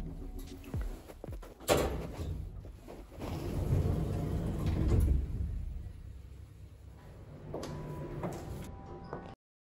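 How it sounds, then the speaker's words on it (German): A door closes on a film set, a sharp knock and thud near the start followed by rumbling handling noise and a softer click later, indoors and without talk. "Wir bleiben so, die Tür geht nur zu."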